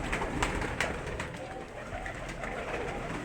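Giribaj pigeons coo at a two-storey pigeon loft as they fly down to feed. Soft cooing runs steadily under a hum of background noise, with a few faint wing or movement sounds. No one speaks.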